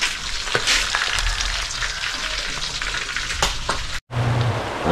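Food sizzles and crackles in a hot pan while being stir-fried with ketchup, a steady close frying hiss with scraping stirs. There is a brief dropout near the end.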